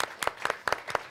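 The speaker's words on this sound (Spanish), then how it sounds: "gracias, aplausos para" Church congregation clapping in short, uneven bursts, several sharp claps gathering into applause that stays moderately loud and fairly close, with no talking over it.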